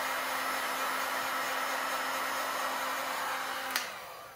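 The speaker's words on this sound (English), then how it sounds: "just use a heat gun to warm it up a bit and stir it." A heat gun blows a loud, steady whooshing roar while warming resin in a plastic container, then cuts off with a click near the end.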